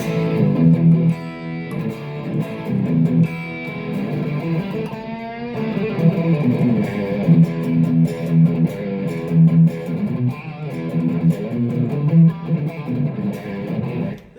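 Crunchy overdriven electric guitar played through a Line 6 POD X3 Live effects unit plays chords and riffs, thick and saturated, ringing out loud and alone with no voices.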